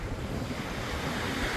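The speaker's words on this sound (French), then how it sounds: "Parce que le vent au final il se renforce à mort." Strong sea wind blows steadily over a fishing boat, a constant loud rush with buffeting on the microphone and surf noise, no talking.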